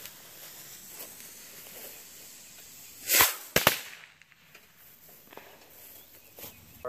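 Firework bottle rocket launched outdoors, a faint ambient background broken by a sharp hissing whoosh and a couple of quick cracking pops close together, then quieter crackle afterward.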